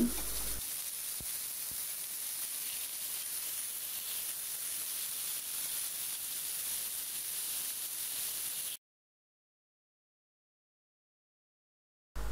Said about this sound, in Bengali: তেলগুলো গরম হয়ে গেলে এখন দিয়ে দিচ্ছি আগে থেকেই মেখে রাখা রুই মাছের টুকরোগুলো। এবার দুই পাশ খুব ভালোভাবে ভেজে নিতে হবে।